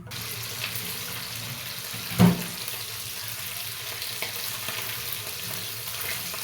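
A steady hiss of frying in a pan, with one brief louder pop partway through.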